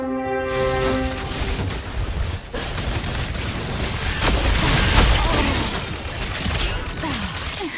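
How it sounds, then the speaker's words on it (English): Energy gun blasts from the Mobile Legends video game, a dense run of booming, crackling shots and impacts that stays loud and busy throughout with layered game effects. "Let's put the energy gun to the test."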